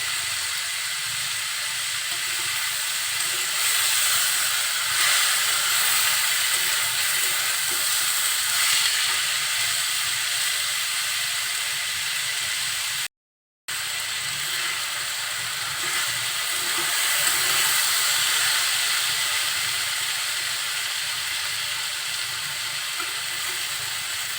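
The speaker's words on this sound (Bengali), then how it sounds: "এখন ঝাল পেঁয়াজ তেলের সাথে আলুগুলো খুব সুন্দরভাবে নাড়াচাড়া করে নিতে হবে।" Potatoes frying in oil with onion and chilli for aloo bhaji give a steady, dense sizzle with a soft hiss throughout, close and even, broken only by one brief silent gap near the middle.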